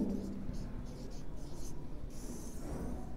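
Pen scratching steadily on paper as color names are written out by hand, a continuous soft rubbing texture with small pauses between words, close and fairly quiet.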